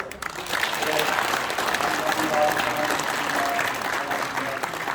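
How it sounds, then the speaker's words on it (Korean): A church congregation claps together in a sustained burst of applause that fills the room, dense and even throughout, with some voices mixed in beneath the clapping. "박수가 필요한 것 같습니다"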